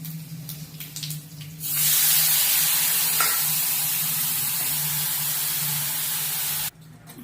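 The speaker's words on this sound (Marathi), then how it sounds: "आपण ही फोडणी ढोकळ्यावर सगळीकडनं ओतून घेऊया." Hot oil tempering with sesame seeds, asafoetida and salt is poured over homemade dhokla and erupts into a loud, close sizzle that holds steady for several seconds, then cuts off abruptly, with a few faint kitchen clinks before it.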